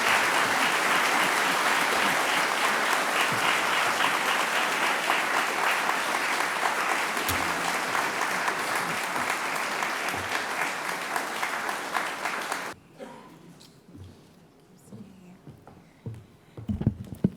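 A lecture audience applauds loudly and steadily for about twelve seconds at a memorial lecture, then the clapping stops abruptly, leaving a quiet room with a few scattered sounds.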